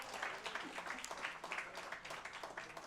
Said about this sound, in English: give a big round of applause for our venue